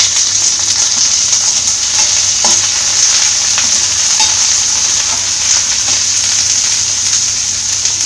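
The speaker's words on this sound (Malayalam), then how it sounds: "ചെറുതായിട്ടൊന്ന് വഴറ്റിയെടുക്കാം." Green chillies and curry leaves sautéing in a pan for a Kerala green tomato stir fry, a loud continuous sizzle with occasional stirring scrapes, close and steady.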